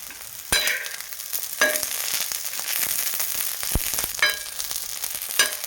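Green chillies and garlic cloves roasting in a hot pan for a Maharashtrian thecha, a steady close sizzle and crackle with sharp pops bursting out every second or so.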